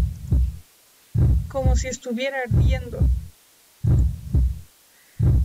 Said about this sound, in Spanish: Está latiendo, como si los latidos de mi corazón se hubieran movido allí